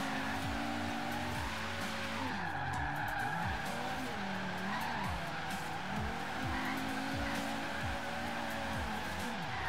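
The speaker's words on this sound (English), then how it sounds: "I just wanted to hit the brakes there real quick to see how touchy they felt" An Audi RS2 Avant in Forza Horizon 3 brakes hard, tires squealing and skidding in repeated rising and falling sweeps over a steady engine drone, with no talking.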